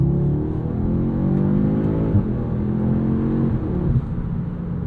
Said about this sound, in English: Couple little burbles on the over rev.